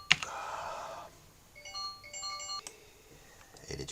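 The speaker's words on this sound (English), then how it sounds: "did you hear my phone going off?" A mobile phone ringtone plays a short melodic pattern of beeping tones, faint and brief, in a quiet studio room with no talking.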